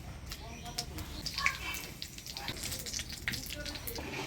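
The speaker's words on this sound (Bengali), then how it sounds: "এবার ফোড়নে দিয়ে দিচ্ছি তেজপাতা," Bay leaf and whole cumin seeds hit hot oil for a tempering in a home kitchen, making a steady crackling sizzle with scattered sharp pops that holds for several seconds.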